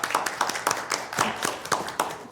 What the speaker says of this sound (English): I would like to do a round of applause to congratulate the new board.